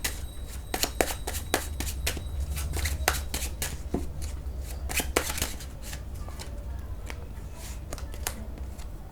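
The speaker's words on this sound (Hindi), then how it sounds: "चलिए कार्ड्स को शफल कर लेती हूँ" Tarot cards being shuffled by hand, a rapid run of crisp riffling slaps and flicks repeating steadily at close range, with a low room hum underneath and no talking.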